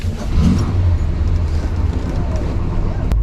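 A 1970 Chevrolet Chevelle, a bench-seat car with a 10-bolt rear, open differential and Turbo 350 automatic, pulls away with a steady, loud, close engine rumble.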